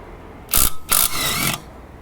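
A Bosch GDX18V-EC hybrid impact driver undoes an 80 Nm bolt in two loud, close bursts of rapid hammering, a short burst followed by a longer one lasting about half a second, with no talking.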